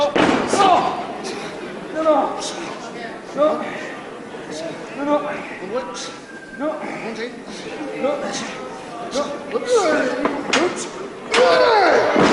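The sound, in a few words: wrestler thrown down onto the mat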